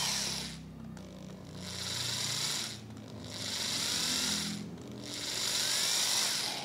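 An ALDO BLT1008 corded torque drill runs in low gear with a steady motor whir and gearbox ratchet texture. It rises and falls across three smooth passes, each one slow and controlled, close and moderately loud.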